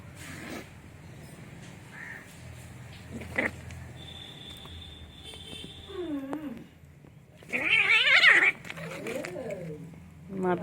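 Pet cats scuffle and yowl while playing and fighting, giving short cries and meows between thumps, with a person talking over them nearby.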